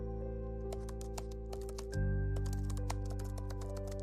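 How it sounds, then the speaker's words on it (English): Quiet, rapid keyboard typing with irregular clicky taps, set against a soft steady hum that thickens partway through. "Subtle keyboard typing."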